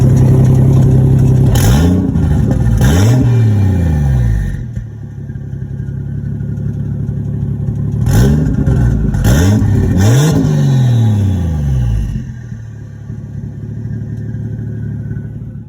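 A Toyota Supra MK3 engine with an open downpipe revs hard in two loud bursts of repeated rising and falling roars, dropping back to a rough, rumbling idle between them.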